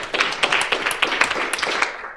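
Audience at a teen distracted driving prevention summit clapping together on cue, a run of roughly seven sharp, fairly loud claps in a loose rhythm, the room's reverberation trailing after each one.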